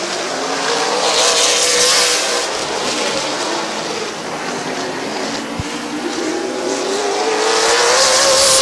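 Race cars roaring around the Midvale Speedway oval, a loud continuous engine drone with rising pitch as the pack accelerates, close and sustained for the whole stretch.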